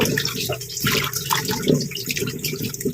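Papaya being washed under a running kitchen tap, water splashing and gurgling steadily over the fruit, close and fairly loud, with no talking.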